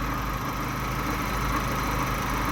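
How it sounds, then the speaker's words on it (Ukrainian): A Chevrolet Lacetti engine idles steadily with a constant droning hum and no change in pitch, heard close up with no voices. "Тепер двигун працює як потрібно."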